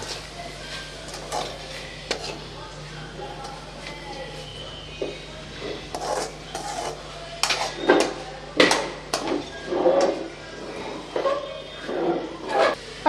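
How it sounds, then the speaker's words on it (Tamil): Chopped banana flower and drumstick leaves being stirred and tossed in a pan, with a run of scraping, clattering spatula strokes that grow louder and more frequent toward the end. A voice speaks quietly in the background. "நல்லா வதக்கி விட்டுறலாம்"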